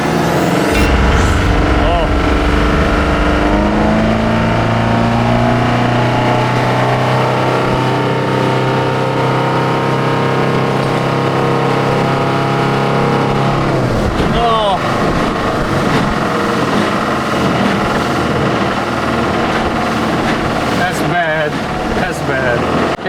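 A cheap budget boat's outboard engine opened up to full throttle on open water, a loud continuous roar whose pitch shifts as it climbs, with wind buffeting the microphone and a voice talking over it.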